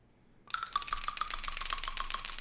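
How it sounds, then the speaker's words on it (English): A coin is tossed for a tabletop football game, ringing and spinning to rest on a hard surface with a quick run of bright metallic rattles and chimes after a moment of silence. "coin toss."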